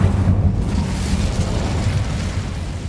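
A loud, roaring burst of flame from the Incendio fire spell in Hogwarts Legacy, a thick rumbling whoosh that holds steady for a few seconds with no speech over it.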